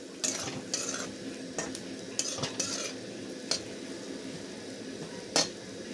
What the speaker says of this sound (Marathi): तेलामध्ये चांगली भाजून घेतली ना वशाट नाही लागत.